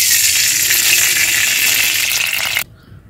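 Oil poured into a hot kadai in a village kitchen hisses and sizzles loudly for over two seconds, then cuts off abruptly into near quiet.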